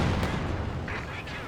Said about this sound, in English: Initial barrage raining on in,